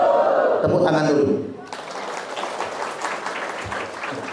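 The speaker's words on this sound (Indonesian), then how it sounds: "Tepuk tangan dulu." Applause breaks out from the crowd at a public talk in Dipasena, a dense patter of clapping rising after a loud voice speaks at the start and then continuing steadily.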